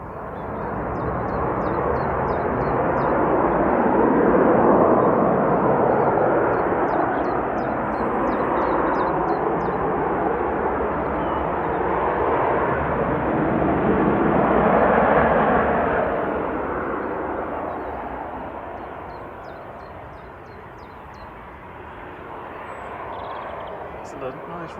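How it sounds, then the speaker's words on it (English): A Ryanair Boeing 737 airliner roars past at Manchester Airport, a loud, sustained broadband jet rumble that swells and fades twice over about 25 seconds, with faint bird calls on top. "Excellent, nice noisy Ryanair there."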